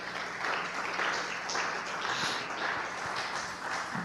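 Church congregation applauding during a Pentecostal sermon, a steady diffuse wash of clapping from many hands filling the room, moderately loud and continuous throughout with no voices standing out.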